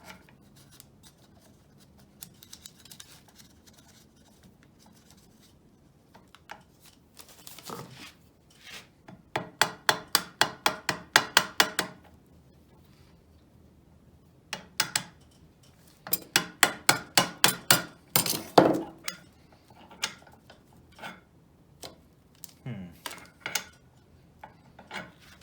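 A pulley is worked onto the cutterhead shaft of a Felder AD741 jointer planer, with bursts of rapid metallic ratcheting clicks and scraping in several clusters separated by quieter pauses, close and fairly loud, with no talking.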